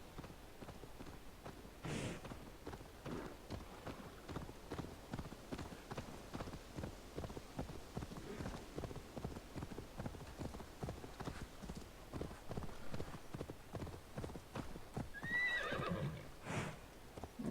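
Horse hooves clip-clop at a steady walking rhythm through an Assassin's Creed Valhalla game scene, with a loud whinny early on and another near the end over light ambient sound.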